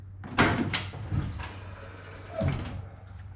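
A pickup tailgate with a DeeZee tailgate assist damper swings down with a soft, damped thunk and brief rattles, settling slowly without a slam, over a steady low engine hum.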